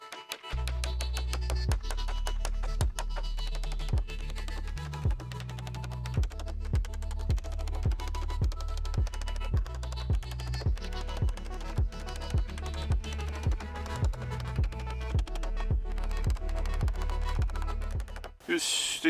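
Hammer blows drive cut-to-length scrap pallet boards down onto a woodshed floor, a long steady run of sharp, evenly spaced strikes repeating close by for nearly the whole stretch under a low hum.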